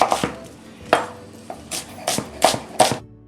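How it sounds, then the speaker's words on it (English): A knife julienne-cutting an onion on a cutting board while preparing an 1890s pheasant meal, giving about nine crisp, close chops at an uneven pace with short pauses between bursts. "Julienne cut the onion."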